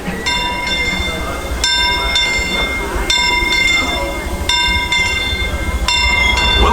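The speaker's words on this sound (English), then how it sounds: "Welcome aboard the Disneyland Railroad." The Disneyland Railroad train runs through the park with a loud, steady rumble, rhythmic wheel clatter and bright squealing tones that recur every second or so.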